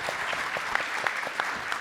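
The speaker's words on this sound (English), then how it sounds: "First, just an applause for Dave." An audience at a panel event applauds, with a dense, steady patter of many clapping hands heard up close for a short burst.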